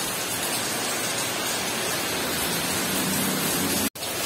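A downpour of heavy rain roars steadily nearby, a thick unbroken wash of falling water that cuts out abruptly for an instant near the end before resuming.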